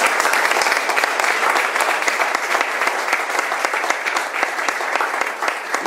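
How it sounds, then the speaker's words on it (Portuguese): Steady, dense audience applause fills a CD launch concert hall, many hands clapping continuously at a fairly loud level with no talk. "e para ele eu queria uma salva de palmas"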